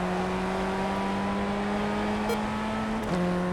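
A Formula 1600 race car in the iRacing video game drones steadily at the Hungaroring, its engine tone holding level and then briefly dipping and rising as it shifts.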